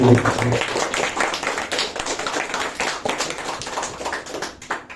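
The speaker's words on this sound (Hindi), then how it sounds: "एक बार तालियां बजा दीजिए प्लीज।" An audience at a poetry performance in a studio claps, a steady patter of many hands that holds at moderate loudness and slowly tapers off.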